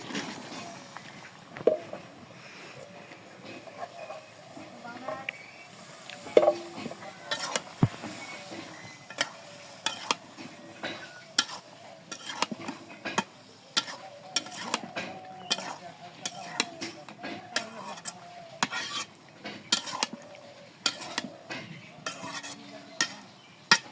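Eggplant frying in a fish head curry, a soft low sizzle with repeated sharp scrapes and clinks of a spoon stirring against the pan, fairly quiet and close.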